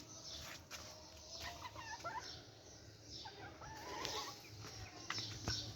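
An Aseel hen clucks softly and intermittently nearby in a quiet setting, with faint scattered poultry calls and background noise around it.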